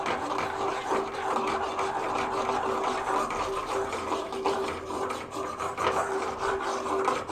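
Milk and sugar are stirred briskly in a pan, giving a steady, fairly quiet rasping scrape of the spoon against the pan under a faint low hum, continuous and close.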